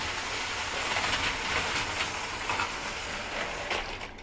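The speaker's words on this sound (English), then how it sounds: "I'll see if I can get another lap out of Scotsman without derailing" A Flying Scotsman model train running on a layout produces a steady, hissing rattle with faint clicking of wheels on track, fairly quiet and continuous.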